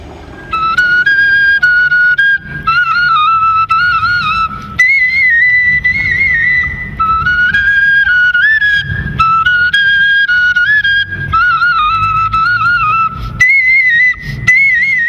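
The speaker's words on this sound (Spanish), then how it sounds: "el silbido de sus flautas que simbolizan el canto de las aves" High, sustained whistling tones from flutes in Chiapas, Mexico, gliding and warbling in birdsong-like phrases over a low rumbling backdrop, loud and continuous.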